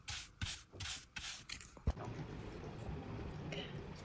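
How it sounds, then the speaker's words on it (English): Paintbrush bristles flicked back and forth over the side of a wooden side-table spindle during folk-art painting, giving a few quick brushing rubs before a steadier soft scrape, close and quiet. "as I flick the brush back and forth over the side or the spindle"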